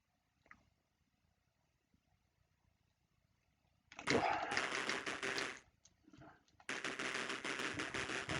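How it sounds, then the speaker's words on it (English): Rapid bursts of retro Amstrad video game gunfire, two long dense volleys of harsh electronic firing separated by a short gap, loud against an otherwise quiet background. "Waste bullets. I just shoot everybody."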